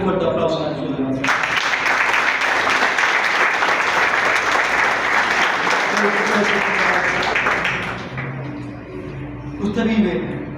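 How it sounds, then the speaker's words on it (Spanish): A loud burst of applause rises from a church congregation honoring Jesus of Nazareth, a dense sustained roar of clapping that holds steady for several seconds before thinning out, with talk mixed in beneath it. "Un fuerte aplauso a Jesús de Nazaret."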